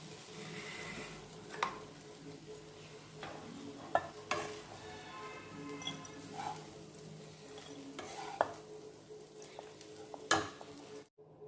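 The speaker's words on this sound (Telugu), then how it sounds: "ఈ ఫ్రై అయిపోయిందండి. ఇంకా మనం ఒక సర్వింగ్ బౌల్లో తీసేసుకుందాం." A spatula scrapes and stirs moringa leaf fry made with moong dal in a pan, with soft sizzling and occasional sharp clinks of metal on the vessel, steady and close, ending abruptly.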